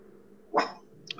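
A single short dog bark rings out in the hunting game TheHunter, a brief burst amid quiet outdoor ambience, followed by a faint yip.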